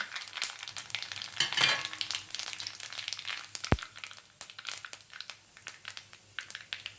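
Cumin seeds go into hot oil with mustard seeds in a kadhai on a gas stove, crackling and sizzling steadily up close with scattered sharp pops and one stirring knock.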